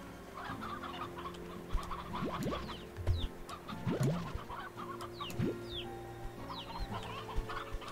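Chickens cluck and squawk in Slime Rancher 2, with a rooster among them, scattered calls in a steady farmyard chorus at moderate level over a low background hum.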